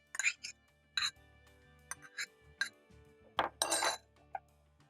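Sausage kachumbari with chopped vegetables being stirred into sauce in a bowl, a few separate clinks and scrapes of a utensil against the bowl, with short bursts of softer rustling between them.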